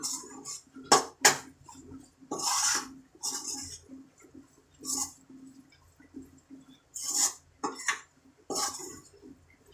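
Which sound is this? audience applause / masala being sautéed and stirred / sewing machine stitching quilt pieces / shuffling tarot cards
masala being sautéed and stirred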